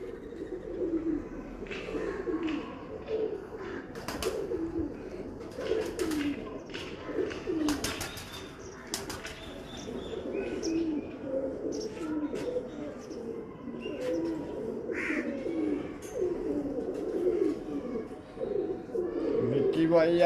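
Breeder pigeons in a loft coo in overlapping, throaty, rolling calls, close and continuous, with occasional wing flutters and people talking nearby.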